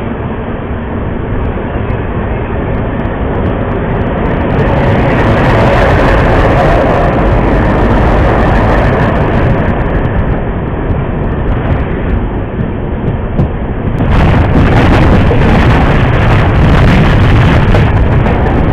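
An express train rolls loudly past a station where the Nauchandi Express stands on its platform, a sustained close rumble and clatter of wheels on rails that swells louder near the end.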